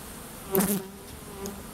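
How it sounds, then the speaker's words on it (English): Honeybees buzzing at a hive during the hiving of a package colony, a brief close buzz swelling as a bee passes near, then a thinner steady hum. "See how they're buzzing just a little differently?"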